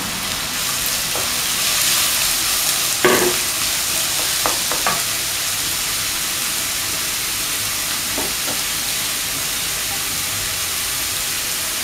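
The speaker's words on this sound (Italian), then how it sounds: "vado a rosolare anche i funghi." Mushrooms and garlic sautéing in a pan, a steady broad sizzle throughout with a few scraping stirs of a utensil, close and fairly loud, no voices.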